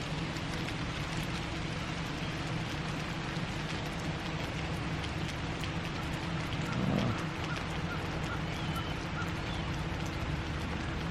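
Heavy rain pours down in a steady, dense downpour, a continuous loud hiss of drops beating on surfaces with a brief swell near the middle and no voices.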